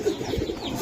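Giribaz racing pigeons coo close by with a steady low burbling, moderately loud and unbroken, no talk over them.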